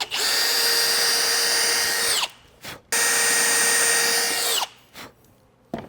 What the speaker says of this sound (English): we're just going to drill through that